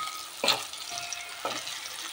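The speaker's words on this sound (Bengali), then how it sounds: "আলুটাকে ভালো করে ভেজে উঠিয়ে নেবো" Potato pieces frying in a small amount of oil with bay leaf and cumin tempering, a steady close sizzle with two brief louder bursts of spatter or stirring, no talking.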